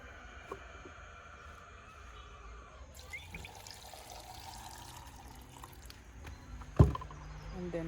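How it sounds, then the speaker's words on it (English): Water is poured into food in a blender jug before blending, a soft splashing trickle under low background noise with a sharp knock near the end. "Add some water now."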